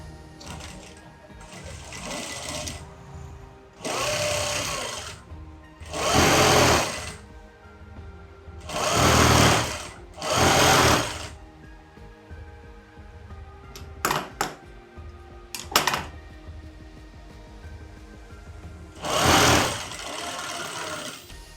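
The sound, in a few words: sewing machine stitching skirt shirt hem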